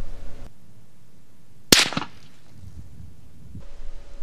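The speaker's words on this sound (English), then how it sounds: "Even with the camera 75 yards downrange of the shooter, there is still much noise present even when the suppressor is used." A single suppressed gunshot heard from 75 yards downrange lands as one sharp crack with a short ringing tail, set in an otherwise quiet outdoor background.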